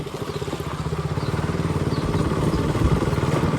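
A KTM RC 390 single-cylinder engine revs up close during a wheelie attempt, a throbbing pulsing drone that steadily builds in intensity.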